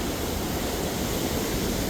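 Water rushing over the Clearwater Lake spillway in Missouri makes a loud, steady roar of broadband noise that holds constant from start to finish, with no voices.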